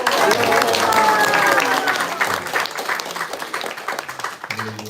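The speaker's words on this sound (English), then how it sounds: "Big round of applause." Audience applause at a talk by HG Kripamoya Das, a dense wash of clapping that is loud at first and then thins out, with some voices mixed in toward the end.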